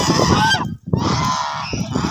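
Geese at a goose farm honk loudly and close by in harsh, overlapping calls, broken by one brief pause before the honking resumes.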